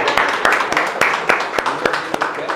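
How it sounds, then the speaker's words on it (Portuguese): Applause for a participant at a leadership training session, a group clapping in a fairly regular rhythm with distinct sharp claps roughly every quarter second over a murmur of room noise. "Uma salva de palmas para o William!"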